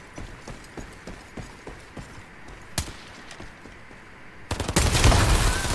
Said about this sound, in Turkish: Aa roket var roket atacağım bir tane.